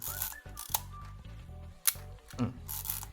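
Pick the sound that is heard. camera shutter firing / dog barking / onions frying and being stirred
camera shutter firing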